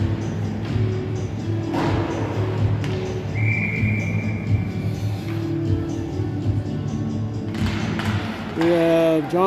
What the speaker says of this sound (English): Good forecheck by Blake McLean to get that on net and get a whistle.